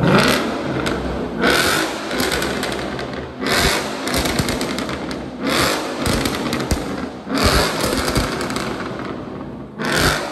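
Ford Mustang 5.0 V8 revving with its exhaust valves closed, loud repeated bursts of engine roar rising and falling in roughly regular blips, close by and with no talk over it.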